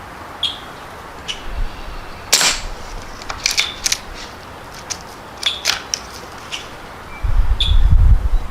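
Shots from an Umarex Fusion 2 CO2 air rifle fired at a target outdoors: several sharp, separate cracks spaced irregularly over several seconds, moderately loud, with a low rumble of handling near the end.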